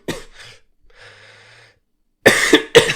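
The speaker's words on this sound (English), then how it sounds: "Throws in the token cough to make sure you know he's sick." A few coughs and throat sounds, with a brief pause, followed by two harsh, louder coughs close by.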